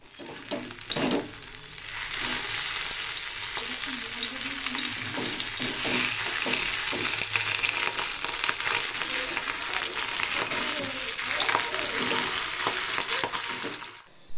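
Pabda fish fries in a pan with a loud, continuous sizzle and crackle, broken by occasional stirring and spatter sounds for most of the stretch.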